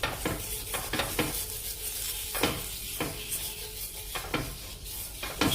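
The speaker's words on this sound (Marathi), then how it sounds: "तर असं तव्याला मी तूप लावून घेते कांद्याने." Ghee being rubbed over a hot griddle with a halved onion before pouring green moong dosa batter, giving rhythmic scraping strokes over a soft sizzle, close and repeated about every half second.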